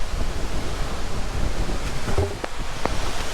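Wind blows steadily outdoors at an off-grid homestead during driveway gate building, a loud continuous rushing roar buffeting the microphone, with a few faint clicks near the end.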